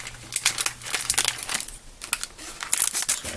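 Scissors snip open a plastic packet during a cooking session, giving short crisp crinkling and rustling bursts, close and fairly quiet, with no talking.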